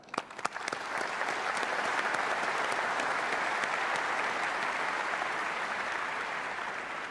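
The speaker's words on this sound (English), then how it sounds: "round of applause for this effort." A large audience at a tech conference general session claps, opening with a few sharp individual claps before swelling into a sustained, even wash of applause that slowly eases.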